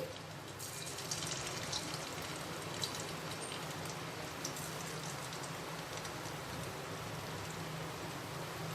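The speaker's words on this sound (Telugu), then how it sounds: "ఇప్పుడు ఆయిల్ వేడెక్కింది ఫ్లేమ్ని మీడియంలో పెట్టుకోవాలి ఇప్పుడు ఇవి ఒక్కొక్కటే తీసి ఆయిల్లో వేసేయాలి" Thin-cut chicken pieces fry in hot oil over a medium flame, giving a steady, even sizzle that runs alone throughout without pause.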